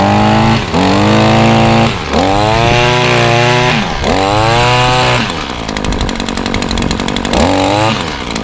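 A small engine on commercial lawncare equipment revs loudly and close by in repeated bursts. Its pitch rises and falls each time, with a rough, buzzing idle between pulls and no talking.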